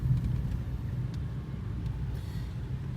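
Steady low road rumble fills the cabin of a moving 2015 Toyota Prius C with its small four-cylinder engine, a constant droning hum heard alone with no talking.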